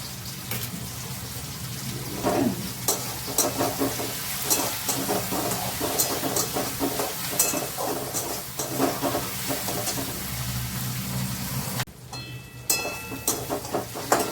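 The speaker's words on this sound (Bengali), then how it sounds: "এখনই দিয়ে দেবো গ্রেট করে রাখা রসুন" Grated garlic goes into a hot pan and fries with a continuous sizzle. Clattering stirs come through at close range, with a brief sharper burst near the end.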